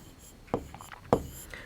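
Two short, crisp strokes of writing on a classroom board as the month name January is written, each a quick scratch with quiet pauses between, no talk.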